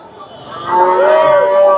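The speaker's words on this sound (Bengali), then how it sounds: "এদের ভাইয়ের কাছে দুইটা লাল গাবি দেখতেছি এগুলা শাহিওয়ালের একটু ক্রস আছে" A red Sahiwal-cross dairy cow lows at a busy Bogura cattle market, a single drawn-out moo swelling after a quiet start and holding steady near the microphone over a faint background murmur.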